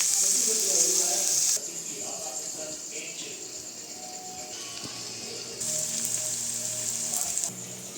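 Onions fry and are stirred in a pan with a steady hiss and sizzle, loud at first, then quieter and rising again later, with faint talk in the background.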